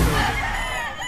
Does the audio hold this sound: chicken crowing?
yes